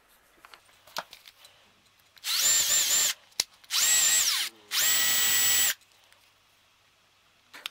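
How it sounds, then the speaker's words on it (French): A power drill with a 4 mm bit bores holes in plywood in three loud sustained whirring bursts separated by short pauses, with faint taps and handling sounds around them. "j'ai repassé les trous en plus grand, comme vous voyez. J'ai fini avec une mèche de 4."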